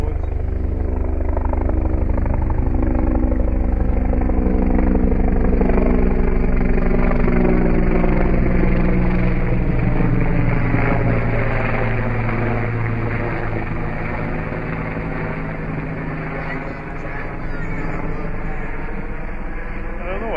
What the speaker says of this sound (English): I love helicopters.